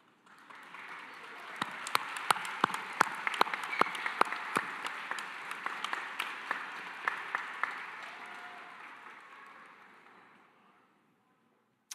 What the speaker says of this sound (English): I'd like you to offer a heartfelt round of applause